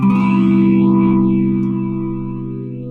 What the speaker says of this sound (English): you can kind of hear that sweeping noise